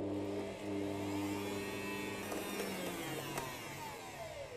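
Electric hand mixer whirring through cake batter with butter, powdered sugar and two eggs, a steady motor whine that shifts in pitch as the beaters work, close and continuous.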